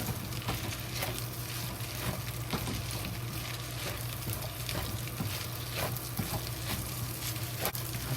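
Bacon fried rice frying in a pan, a steady close sizzle with soft scraping stir strokes recurring every second or so, and a low hum underneath.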